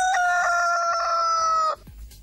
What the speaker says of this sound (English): I could hear the rooster next door.